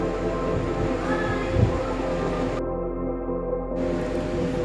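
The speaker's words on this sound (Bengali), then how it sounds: "শিয়ালদা থেকে আমাদের ট্রেন হচ্ছে পদাতিক এক্সপ্রেস" The Padatik Express passenger train running from Sealdah toward New Jalpaiguri, a steady rumbling drone of wheels and carriage with a brief louder thump, heard from inside.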